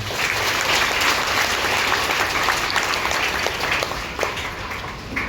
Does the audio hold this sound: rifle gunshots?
no